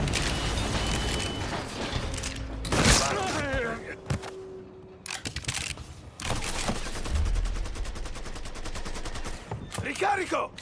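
Rapid gunfire from a Mafia III Definitive Edition shootout, with loud bursts, a long stretch of rattling automatic fire and mechanical clicks, and voices shouting in between.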